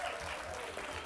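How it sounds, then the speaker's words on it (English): Brief, faint audience applause for a volunteer at a physics-of-sound lecture, a dense, soft wash of clapping with no gaps. "round of applause for our volunteer there"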